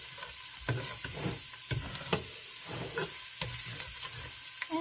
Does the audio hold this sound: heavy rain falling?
no